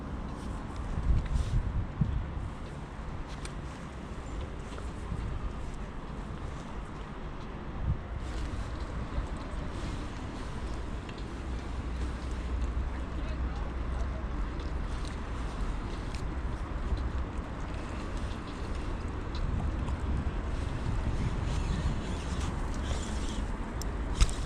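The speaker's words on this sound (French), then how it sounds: "Il y a vraiment pas mal de vent." Strong wind blows outdoors at a fishing spot, a steady broadband rush with gusts and buffeting against the microphone for the whole stretch, with no clear voices.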